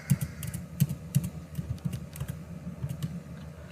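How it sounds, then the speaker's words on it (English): Keys on a computer keyboard tapped in short, uneven runs of soft clicks over a faint background hum, with no talking. "Now I want to print this variable, so I am going to type within parentheses"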